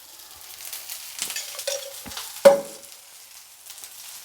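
Brinjal slices frying in oil on a tawa give a soft, steady sizzle, broken by a few clinks and scrapes and one sharper knock midway, with no one talking.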